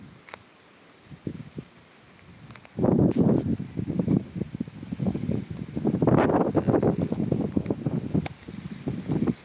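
Strong gusts of wind buffet loudly in bursts, rising suddenly after a quieter start and rushing with rustling noise.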